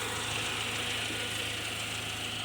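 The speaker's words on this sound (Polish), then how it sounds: "zaczęły odzywać się hydropopychacze co generalnie jest rzeczą denerwującą" Hydraulic valve lifters ticking in a 1997 Mercedes C180 engine, a steady fast mechanical clatter over a low idling hum, close and continuous with no talk.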